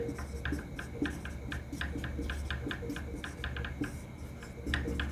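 Marker or chalk tapping and scratching on a board in quick irregular strokes, fairly faint over a steady low room hum.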